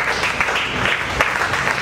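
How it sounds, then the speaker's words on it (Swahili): A church congregation at a prayer service breaks into applause again, a thick continuous clapping from many hands with a few sharper claps standing out. "Pesa tena makofi yako mazuri."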